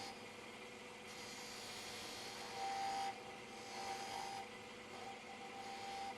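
A fine detail spindle gouge cutting a V into wood on a lathe while turning a finial, giving a soft, steady rasping scrape with slight shifts in pitch and no talk.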